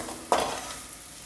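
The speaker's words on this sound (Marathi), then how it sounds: "आता हे हलवून घेऊयात." Chickpea usal gets stirred in a pan: one quick scraping stir against the metal, close and fairly soft, followed by a faint simmering sizzle with no voices.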